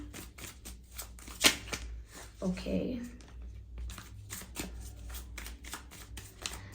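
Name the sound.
tarot cards being shuffled and drawn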